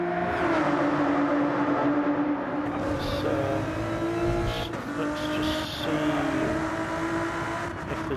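Touring cars racing in the WTCR video game, a dense, continuous roar of several engines with shifting pitch and brief tyre squeals, loud and steady throughout, with no talk over it.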